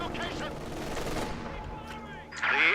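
Machine gun fire in Company of Heroes 2, with a burst of automatic shots under steady battle noise and a louder crackle near the end.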